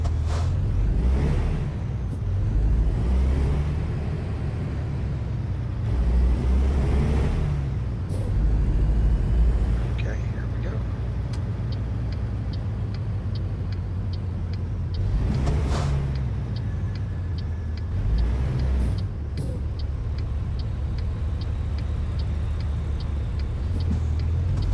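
A heavy truck engine in the video game American Truck Simulator rumbles low and steady, with occasional surges, an air-brake hiss, and a faint ticking in the background.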